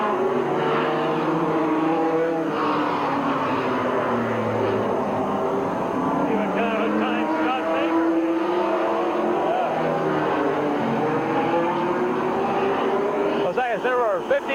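Race cars roaring around Midvale Speedway at a 1985 fall classic, a continuous layered engine drone from several cars under a public-address announcer talking throughout.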